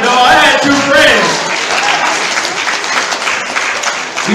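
An audience at a summit session claps steadily in a dense patter, with a speaker's voice over it at the start.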